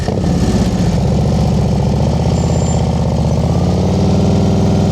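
A motorcycle engine idles and putters loudly and close by during a slow-speed riding practice session, holding a steady low throb with slight throttle changes. No one speaks.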